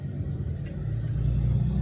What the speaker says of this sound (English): Alright, let all these cars go around.